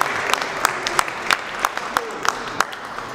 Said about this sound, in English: let's give them a very warm welcome and warm round of applause